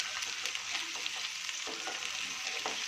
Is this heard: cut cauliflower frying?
yes